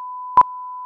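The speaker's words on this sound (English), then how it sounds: "you're going to hear that it has a synchronization beep" A signal generator's synchronization beep used for audio-video sync sounds as one short, loud, pure tone burst standing out above a steady continuous 1 kHz test tone running throughout.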